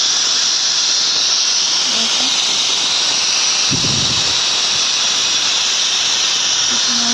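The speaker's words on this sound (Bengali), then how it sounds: "অনেকক্ষণ পরে দেখো সিটি মারছে প্রায় আটটা সিটি মারবে" A pressure cooker cooking vegetable khichuri vents steam through its whistle in a loud, continuous hiss that holds for the whole stretch, with a brief low thump midway.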